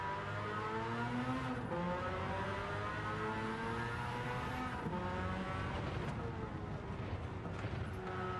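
A continuous, steady race car engine drone from a racing video game, with shifting harmonic whine, staying loud throughout without pauses.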